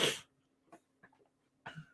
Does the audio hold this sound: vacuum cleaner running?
no